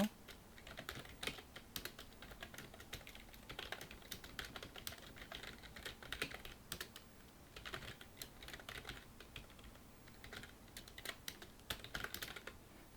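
Someone types on a computer keyboard while working in PowerPoint. The key clicks come in a quiet, fast, continuous run with brief pauses between bursts and no talk.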